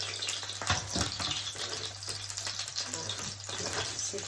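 Close, quiet crackling as salmon fries slowly in a frying pan over low heat, with a few louder pops and stirring scrapes, no talking.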